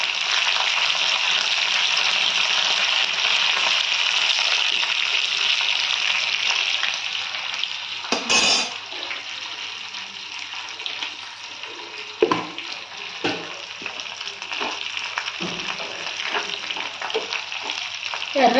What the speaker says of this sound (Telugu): కరివేపాకు, బాగా ఎర్రగా వేగనిచ్చేసి